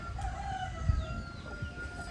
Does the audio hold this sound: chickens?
yes